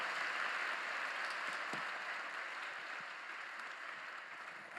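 A congregation at a Sunday service at Yoido Full Gospel Church applauds as the pastor comes forward. The clapping is a soft, distant, uniform wash that holds steady and eases off slightly.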